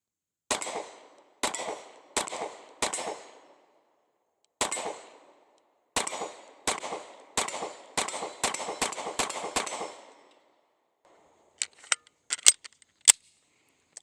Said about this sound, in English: let's go ahead and take our last few shots with these Shield X